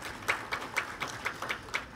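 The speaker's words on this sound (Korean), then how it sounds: "큰 박수 부탁드리겠고요." Applause from the audience at a memorial ceremony for a guest being introduced, heard as a moderate burst of clapping with soft, repeated peaks and no speech over it.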